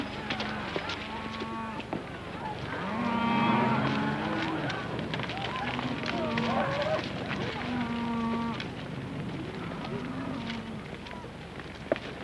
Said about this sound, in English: Hey, Joe, get those cattle watered down right away.